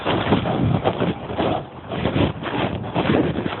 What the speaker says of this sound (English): pretty sure you're going to be able to hear that in the video. How loud the wind is blowing.